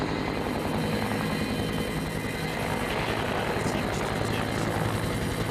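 A heli-logging helicopter lifts logs up through a forest canopy, its rotor and engine roaring loud and steady at close range throughout, with no pause.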